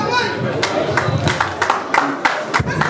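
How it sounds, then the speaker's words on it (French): An audience applauds prize winners at a Paris awards event, with scattered clapping and crowd noise mixed with voices talking over it. "On applaudit pour les lauréats quand même."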